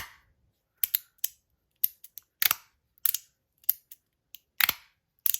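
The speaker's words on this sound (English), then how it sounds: "it's also like making that sound because the magnets are moving around" Magnets clicking and snapping together inside a fidget toy with its O-rings removed, a series of sharp, close, irregular clicks, some in quick pairs, separated by silence.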